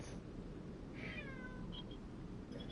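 House cats meowing in a room, a single short meow with falling pitch then a couple of faint chirps, heard over a steady background of video game music and ambience.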